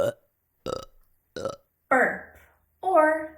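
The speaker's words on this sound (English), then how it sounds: "Burp or belch." A sequence of burps or belches, five separate bursts spaced roughly evenly, the later ones longer and more drawn out, loud and close with no talk around them.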